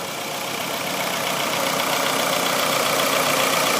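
A Toyota AE111 Levin with a 4A-G engine idles steadily nearby, a constant rumbling drone with no other sounds.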